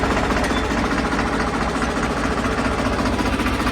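A tractor engine runs steadily nearby, a loud continuous rumbling drone with a slight knocking vibration and no speech over it.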